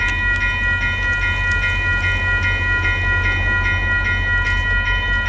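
VIA Rail passenger train 88 rolls past a level crossing at night, a loud continuous rumble of wheels with steady ringing tones from the crossing bells above it.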